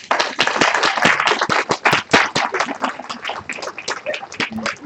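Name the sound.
audience applause for new members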